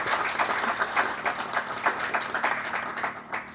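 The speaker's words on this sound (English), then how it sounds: "I think we should clap." A crowd claps at an outdoor groundbreaking celebration for a riverfront park in Michigan, a steady wash of many hands that stays fairly even and moderately loud throughout, with no voices over it.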